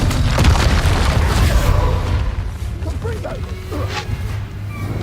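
Explosive Confringo spell blasts in Hogwarts Legacy video game combat, a run of loud booming bursts over crackling fire spells and busy battle noise.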